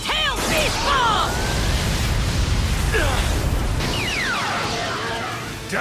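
The anime Tail Beast Bomb attack from Naruto erupts as a sustained, rumbling blast layered with sweeping whooshes and whistling tones, loud and dense throughout, with shouting voices.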